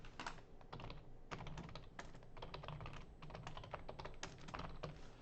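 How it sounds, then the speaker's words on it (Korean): Fingers type on a computer keyboard in a fast, continuous run of quiet clicking keystrokes with short pauses between bursts. The sound is soft and close, with no talking. "타이핑을 한번 직접 쳐볼게요."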